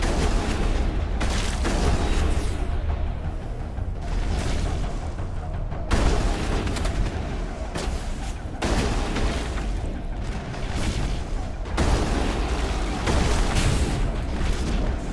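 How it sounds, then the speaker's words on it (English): Repeated heavy booms and blasts from grenade explosions and combat in the video game Mass Effect, loud and dense throughout with several strong bursts. "I need to stop wasting grenades."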